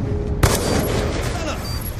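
Gunfire in the video game Black Ops 2 cracks out as a sharp, loud shot followed by a burst of rapid fire and lingering noise, with voices talking over it.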